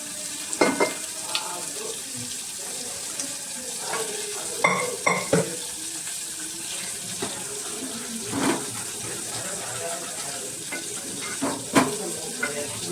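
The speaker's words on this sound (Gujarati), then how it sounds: "એમાં જે અડદ અને ચણાની દાળ બાફેલી હતી એ નાખી દઈએ" Boiled urad and chana dal are tipped into a sizzling vegetable curry and stirred, with soft frying hiss and scattered clinks and scrapes of a spoon against the pan, close and fairly quiet.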